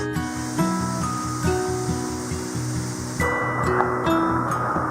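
Dark Horse Falls, a waterfall in Myanmar, gives a steady, dense rushing roar that fills the whole clip, with a faint tonal hum and soft rhythmic thuds underneath.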